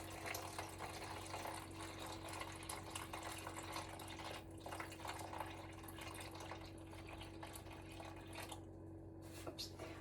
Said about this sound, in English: now I'm going to add 323 grams of water